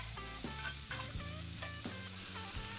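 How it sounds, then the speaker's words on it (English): Two chopped medium Anaheim peppers sauté in a hot pan, giving a continuous close sizzle with stirring clatter over a short stretch. "This is 2 medium Anaheim peppers chopped. And get these sauteed a bit."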